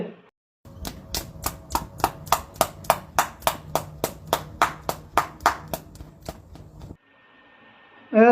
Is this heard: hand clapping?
yes